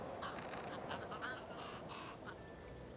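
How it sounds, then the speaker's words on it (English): A crow caws in the video game Little Kitty, Big City, a few harsh calls over a steady bed of ambient game noise, fairly close and moderately loud. "Oh, hello, crow."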